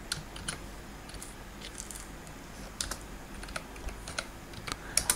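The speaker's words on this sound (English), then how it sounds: "I will type Annona squamosa." Keystrokes on a computer keyboard while entering a search, a quiet, close run of irregular clicks and taps with no voices.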